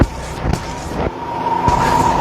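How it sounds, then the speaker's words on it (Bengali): A sports car drives past up close, its engine a loud steady roar that swells and holds through the moment, with road noise underneath and no talking. "মনে হইতেছে স্পোর্টস কার।"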